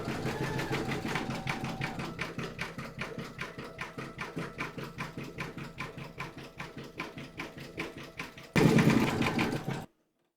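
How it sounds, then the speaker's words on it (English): An embroidery machine sews a white satin stitch around a skull design, its needle making a steady, rapid rhythmic chatter for about eight seconds. The needle may have a burr and is shredding the thread. The sound swells louder near the end and then stops abruptly. "Load your matching bobbin and thread colour for the satin stitching around the skull into your machine, and then stitch round number 7."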